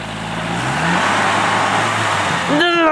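A small four-wheel-drive car engine revs up as it climbs a small mound, a loud sustained engine roar that rises in pitch, with a further rev at the end.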